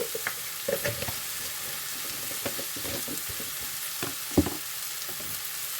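Dried fish and curry powder sauté in a pan with a steady, hissing sizzle, broken by scattered scraping stirs and one louder clatter, close and alone without talk.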